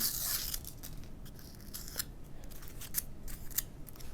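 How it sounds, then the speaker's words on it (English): Paper backing is peeled from the fairing of a Mighty Mini P40 SkyFx model plane, giving a close, crackling, ripping rustle broken by sharp little clicks and snaps that run steadily with no talk. "we're first going to peel away the paper on the side indicated"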